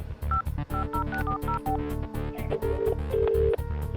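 A telephone number is keyed in as a quick run of distinct touch-tone beeps, then a longer held tone, all over steady background music.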